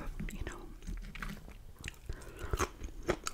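Close, soft chewing of a butter and garlic-salt fried moose steak, with moist bites and small crunches in an intimate, quiet setting, accompanied by faint whispery breaths.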